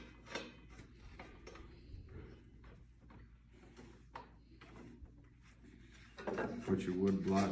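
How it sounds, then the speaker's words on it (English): A metal arbor bolt is threaded by hand onto a table saw's arbor while changing the blade, giving soft, close scrapes and ticks with a clunkier clatter at the end. "you take your arbor bolt, thread it on there, snug it up by hand."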